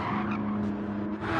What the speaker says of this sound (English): struggling to get the car pointing the right way, so Jam coming by.